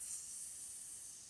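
Food sizzles on a hot plate served at a restaurant table, a soft, steady hiss with no talk over it.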